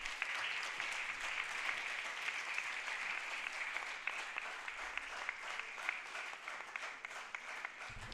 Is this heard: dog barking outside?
no